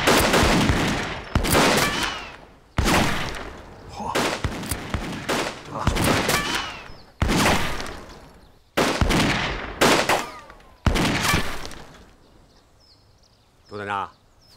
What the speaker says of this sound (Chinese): 按照我刚才的要求，准备射击。